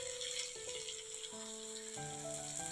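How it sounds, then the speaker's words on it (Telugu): Bitter gourd masala for a pulusu frying in oil in a pan: a soft, even sizzle and hiss runs throughout, under steady tonal background music and with no speech. "చూడండి, ఇదిగో ఇలా చక్కగా ఫ్రై కానివ్వండి"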